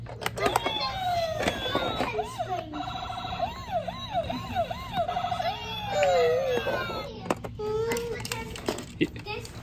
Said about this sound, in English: Mace, you got sirens right here.